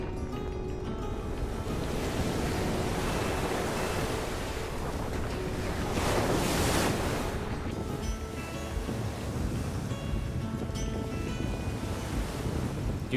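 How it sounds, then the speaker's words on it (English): Rough ocean waves crash and surge around a boat cruising Doubtful Sound in New Zealand. The roar is loud and continuous, with heavy wind buffeting the microphone and a stronger swell rising midway. "Due to the relentless waves,"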